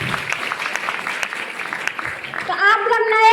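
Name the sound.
applause from an audience for the stage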